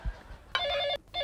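A telephone rings in two short electronic trills separated by a brief gap, clear and fairly close with faint room noise and no talking.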